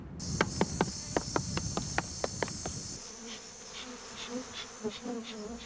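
Bees kept by villagers near an African wildlife park drone with a continuous high buzz. A quick series of sharp knocks sounds through the first few seconds, then the buzzing carries on with softer tones.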